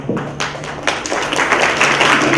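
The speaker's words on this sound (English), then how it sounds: "We should applaud." Audience applause at the Headway Foundation Inclusive India Conclave 2018, a crowd clapping that starts with a few separate claps and builds into dense, steady applause, with a faint hum underneath.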